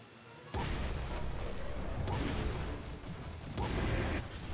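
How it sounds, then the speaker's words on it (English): Rocket launcher fire in Nuclear Throne comes as three sharp, booming blasts, each with a whooshing tail, over a constant dense game soundscape. "I can just pop-pop him with the rockets"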